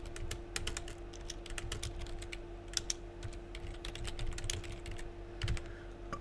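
Quiet, rapid clicking of keys on a computer keyboard, irregular bursts of typing over a low steady hum.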